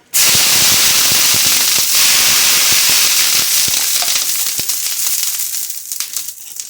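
Water splashes onto a hot oiled griddle with a sudden loud burst of crackling sizzle that spits and pops, then slowly fades to a softer hiss.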